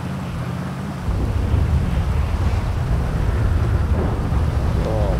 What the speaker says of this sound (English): we got a thunderstorm pulling up